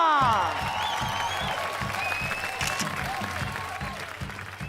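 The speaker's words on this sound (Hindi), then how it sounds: "तालियां।" Audience applause on a TV show, a steady patter of clapping beneath a rhythmic music bed and swooping sound effects, continuing evenly throughout.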